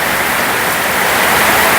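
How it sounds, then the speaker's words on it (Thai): Steady rain falls in an outdoor setting, a dense, even hiss that stays loud and unbroken with no voices over it. "เฮ้ยฝนเริ่มเบาแล้ว"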